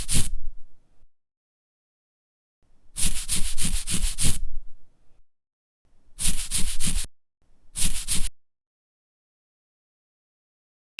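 A brush scrubs in separate bursts made for a mobile game: one short stroke, then a long rhythmic scrubbing run, then two shorter runs, with dead silence between them.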